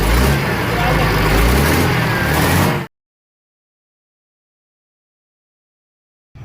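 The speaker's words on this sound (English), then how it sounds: "we've got the engine running just to get some fluids flowing around" An old bus engine idles in a caravan workshop yard, a steady loud rumble for about three seconds before cutting to silence, with speech over it.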